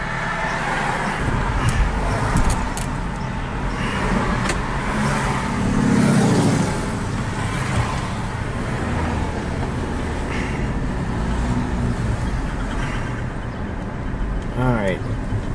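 Nissan Rogue, tested with a TransGo JF011E transmission flow control valve, driving down a street. A steady engine and road drone runs throughout with a brief rise in revs, under occasional talk from the driver.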